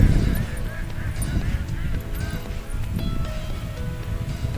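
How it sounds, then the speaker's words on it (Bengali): A flock of ducks in a village setting, swimming on water, calls with a steady run of honking quacks throughout, fairly close and loud, over a bed of outdoor background noise. "তো তোমরা হাঁসেদের ডাক শুনতে পাচ্ছ"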